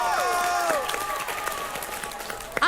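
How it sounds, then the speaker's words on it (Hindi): Audience applause and crowd cheering at a televised face-off show, a steady wash of clapping throughout with a few whoops rising over it near the end. "जोरदार तालियां।"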